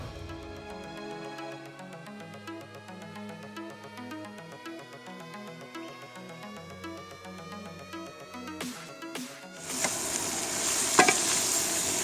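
Onions cook in a pot for a caramelized onion and beer chili, a soft steady sizzle under repeated spoon stirring and scraping that grows louder and busier toward the end.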